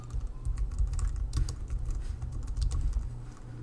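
Rapid keyboard typing as a search is entered into Google News, a steady run of close, light key clicks with no talking.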